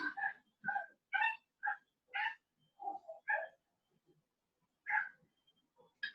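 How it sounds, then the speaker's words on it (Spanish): Several dogs fight and bark somewhere below, a string of sharp yips and barks in quick bursts with pauses between them, moderately distant and otherwise quiet around them. "Están peleando unos perros acá abajo."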